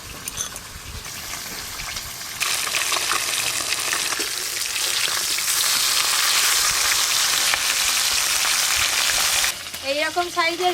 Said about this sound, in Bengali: যা মাছ আছে এবারেই সব ভাজা হয়ে যাবে।